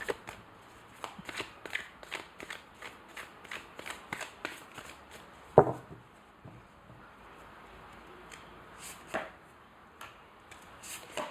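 Oracle cards being shuffled by hand during a love tarot reading, a steady run of soft papery riffles and taps with one sharper slap partway through, close and fairly quiet.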